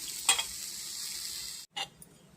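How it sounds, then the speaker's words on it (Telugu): Peanuts fry in a pan with a quiet steady sizzle, and two sharp scraping stirs rise above it, the second following a short gap. "వేరుశనగ గుళ్ళు ఇలా వేపుకోవాలి"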